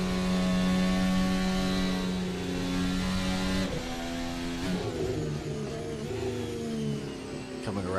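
Steve Rogers' number 12 Mercedes race car engine drones loud and steady from onboard during a lap at Grand Valley Speedway, holding a high pitch before dropping and climbing again through gear changes and corners.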